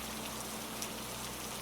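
Steady rain falls in a soft, even hiss of many drops with a faint low hum beneath, quiet and unbroken throughout.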